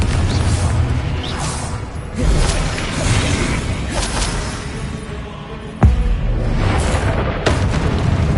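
Deep booming blasts of the Confringo fire spell ring out in the Hogwarts Legacy video game, with several loud explosive hits, a sharp crash near the middle and whooshing spell effects between them.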